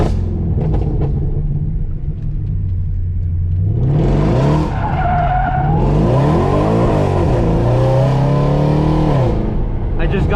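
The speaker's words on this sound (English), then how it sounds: "Downshifts are just unreal on this car." A 2020 Mercedes C63 AMG Black Series engine roars loudly through downshifts, with rising and falling revs blipping between gears in a continuous close-up rumble.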